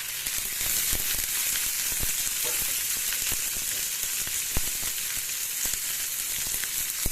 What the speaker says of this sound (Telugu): కరివేపాకు, పుదీనా ఇవన్నీ వేసి చక్కగా వేయించేసుకోవాలి.